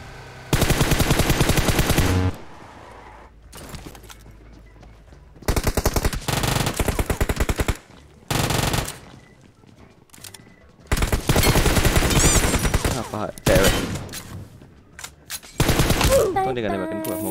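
Bursts of automatic gunfire in a first-person shooter game, several loud rapid volleys separated by short pauses, with voices heard between and under the shooting.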